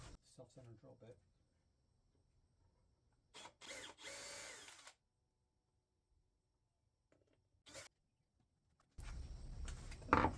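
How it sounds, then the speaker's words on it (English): A power drill with a self-centering bit pre-drills screw holes in wood while a console table is being built. There are a few short whirring bursts and a louder one at the end, with brief talk at the start. "we like to do a little pre-drill"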